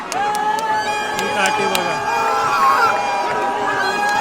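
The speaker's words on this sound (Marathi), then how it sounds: "जल्लोष बघा काठी उभी राहण्याचा आनंद बघा" A crowd cheers and shouts as a god's pole is raised upright at a village pole-raising contest, a loud continuous roar with whistles and cries, and someone talks over it.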